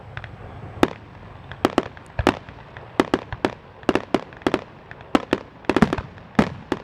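Fireworks at the Lancaster Hot Air Balloon Fest burst in an irregular series of sharp, loud bangs, some close together, echoing over a low rumbling background with no talking.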